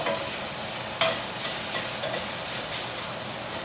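Shrimp stir-fry in a wok over a roaring industrial burner, a loud, dense, continuous sizzle and hiss heard close, with a sharp scrape or toss about a second in and no talking.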